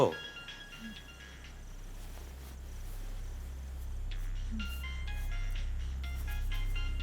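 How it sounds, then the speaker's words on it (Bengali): A mobile phone rings in a room, a repeating electronic melodic tone playing on and on over a low steady hum. "অনেকক্ষণ ধরে ফোনটা বাজছে"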